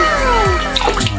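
Water from a tap runs steadily for washing up, a close, continuous splashing stream with faint dripping and trickling textures and no talk over it.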